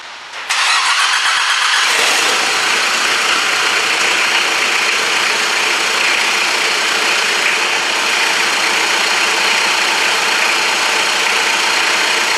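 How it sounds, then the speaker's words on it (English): A 1993 Mitsubishi Pajero engine, exhaust not connected, cranks and fires up, then settles into a loud, raw, harsh roar that stays steady and close without letting up. "the exhaust still isn't connected, that's why it's still very noisy"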